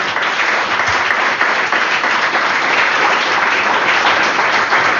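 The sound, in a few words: church congregation applause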